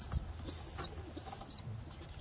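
A young racing pigeon from a long-distance bloodline coos softly in a few short, repeated calls, close by and faint in a quiet room.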